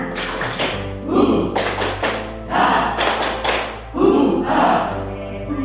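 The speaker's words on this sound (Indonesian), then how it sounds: "Terima kasih Bapak Ibu atas tepuk semangat" An audience of teachers performs the 'tepuk semangat', a rhythmic spirit clap made of loud bursts of clapping and thumping in a repeating pattern, with a few voices shouting along on the beats.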